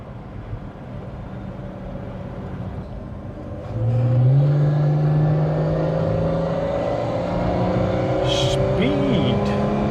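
An Austin Princess car drives with a low, steady engine hum, then accelerates smoothly partway through as the engine note climbs and grows louder.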